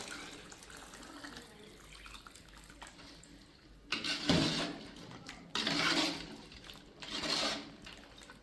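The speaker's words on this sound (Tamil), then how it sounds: "நான் செக்கு கழுவுன தண்ணி ஊற்றிடுவேன்" Water pours from a container, rinsing a stone grinder in a home kitchen while a country chicken curry is being cooked, in several bursts of splashing with quieter gaps between them.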